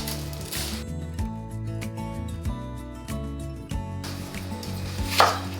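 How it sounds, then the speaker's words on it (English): A knife chops an onion steadily on a cutting board, a fast run of close, crisp knocks that pause briefly before a final scrape near the end. "So we're just gonna coarsely chop everything"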